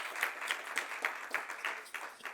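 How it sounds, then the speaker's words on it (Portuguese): Audience applauding the guests at a Brazilian black-culture festival panel, a soft, thin patter of clapping with a few sharper individual claps standing out, steady and fairly distant. "Uma salva de palmas acalorada para os nossos convidados"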